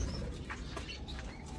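White royal pigeons coo faintly in an aviary, their soft calls half-buried under steady low rumbling background noise.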